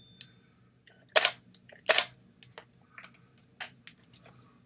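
Canon EOS camera fitted with a 40mm f/2.8 pancake lens, two sharp shutter clicks close together, followed by fainter mechanical ticks and small handling noises in a quiet room.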